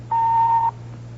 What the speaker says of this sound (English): Now, just wait for that beep,